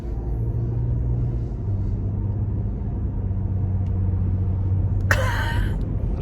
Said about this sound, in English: We're just driving around in our car